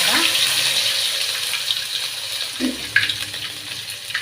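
Crushed garlic and ginger hitting a hot pan for soya dry, a continuous bright frying hiss with a few clatters and scrapes, close and fairly loud, no voices.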